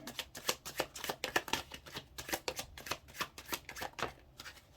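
A deck of tarot cards is shuffled in rapid, rhythmic riffling bursts, crisp and close, filling the moment with no talking.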